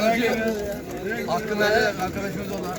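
Pigeons coo and flutter at an İzmir pigeon market, their soft calls mixed with a steady outdoor crowd murmur as people talk close by.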